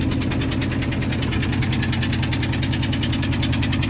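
An eight-cylinder engine idles with a spark plug missing, giving a loud, close, rough and uneven pulsing rumble with a knocking throb that holds steady throughout, no voices.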